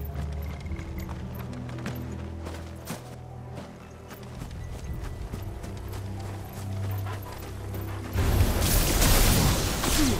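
Horse hooves clip-clop in a steady rhythmic trot in Final Fantasy XVI, loud and close over a low musical drone, then giving way to a burst of broad rushing noise near the end.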